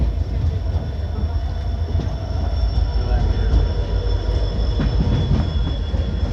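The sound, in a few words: Shalimar Express train with EMD locomotive at Phagwara station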